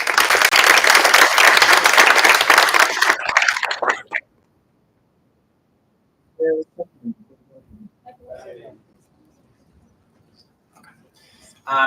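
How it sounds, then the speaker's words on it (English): Applause fills a student government meeting hall for about four seconds, then stops abruptly. Scattered small noises and brief voices follow in a quieter room. "One more round of applause."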